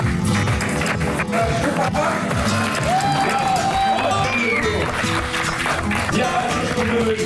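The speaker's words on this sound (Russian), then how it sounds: "Аплодисменты родителям жениха!" Wedding reception crowd applauding the groom's parents, a steady dense wash of clapping and cheering voices with music underneath, loud and continuous throughout.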